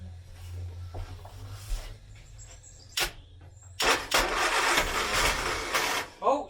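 A 1970s Austin Allegro with the choke pulled open cranks in short bursts, then catches and fires into a loud ragged running engine, close by.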